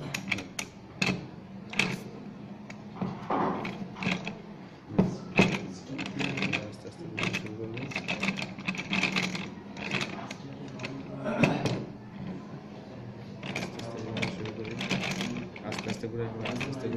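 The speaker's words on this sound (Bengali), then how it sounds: "রিওয়ার্ডিং মেশিনটা আস্তে আস্তে ঘুরে দেখতে পাচ্ছেন।" A coil rewinding machine for exhaust fan motor coils turns slowly, giving a steady mechanical whirr with repeated clicks and knocks, close by, while someone talks over it throughout.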